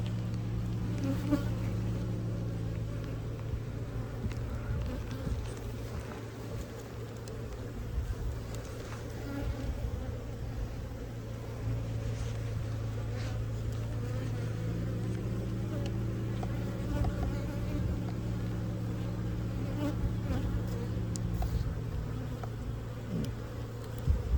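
Honey bees buzz at an apiary hive in a dense, continuous drone, the hum rising and falling as individual bees pass close to the listener.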